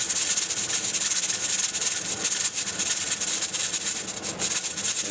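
A pressure canner full of garden green beans, weight in place and building toward 10 pounds, gives a loud, steady, unbroken hiss of escaping steam that carries on without pause.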